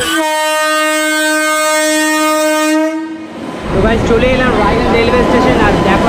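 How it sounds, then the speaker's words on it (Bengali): A loud, sustained train horn sounds at Radhikapur railway station on the India–Bangladesh border, then cuts off into the rumbling, rattling noise of the train moving close by. "ট্রেনের ঘন্টি পড়ে গেছে"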